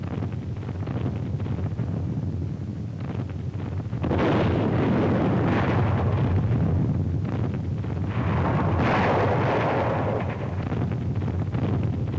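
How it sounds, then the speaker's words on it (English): Naval bombardment off the Normandy coast in 1944 rumbles through a muffled archival recording, with a deep, sustained roar that swells around four seconds and again near nine, heavy and distant. "The naval bombardment continues."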